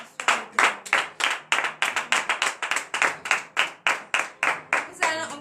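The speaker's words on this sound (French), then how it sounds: "Frères et sœurs en Christ, levez-vous et donnez de vives acclamations." A congregation at a morning prayer service claps in a rhythmic, unified beat, sharp distinct hand claps repeating roughly three per second, close and clear, with a brief voice rising at the very end.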